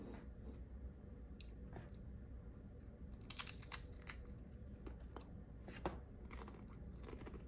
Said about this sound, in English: I had to crunch the chip down first